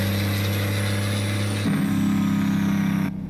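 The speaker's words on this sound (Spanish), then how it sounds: "¿Les gusta cómo se escucha el freno de motor?" A Freightliner Columbia truck carrying 33 tons of bran drones with a steady low tone, then its engine brake shifts into a harsher, rattling growl that holds for over a second before cutting off.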